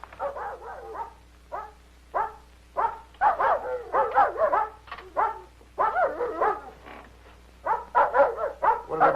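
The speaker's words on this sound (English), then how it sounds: "What are they barking about? Are they, the dogs out in the garden?" Several dogs bark out in a garden, with repeated sharp barks and yips in irregular bursts that come moderately close and carry on continuously with no talk over them.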